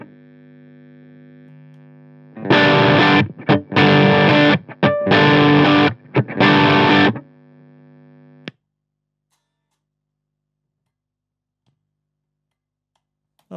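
Distorted electric guitar chords through a Laboga amp set to its 30-watt mode, struck in several loud, crunchy bursts that ring out before a brief feedback-like hum and then silence.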